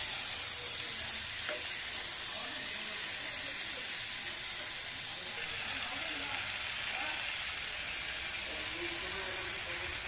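Spice paste sizzling and frying in a pan for a papad curry, with a dense, steady hiss throughout and faint stirring scrapes mixed in.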